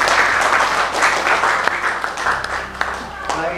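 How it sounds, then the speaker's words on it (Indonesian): Students in a classroom during a lesson on funeral rites clap together, a dense burst of applause that tapers off, with a few voices audible underneath near the end. "Tepuk tangan kita semuanya."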